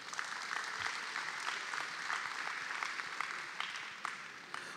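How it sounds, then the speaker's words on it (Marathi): An audience at a community event applauds the organisers, a steady, moderately distant crowd clapping that carries on throughout without talk. "सो त्या सगळ्या संयोजकांसाठी आपण एकदा टाळ्या वाजवूया."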